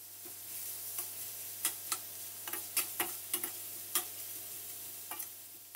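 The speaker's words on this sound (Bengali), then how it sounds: "পেঁয়াজগুলিকে বাদামি করে ভেজে নিচ্ছি" Onions frying in a pan until brown, a steady close sizzle with a run of sharp ticks and scrapes from stirring spread through it.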